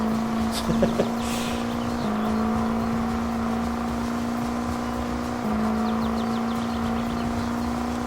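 A vehicle in Farming Simulator 22 on a Norwegian valley map drones with a steady engine tone that steps up in pitch a few times as it accelerates, continuous and close.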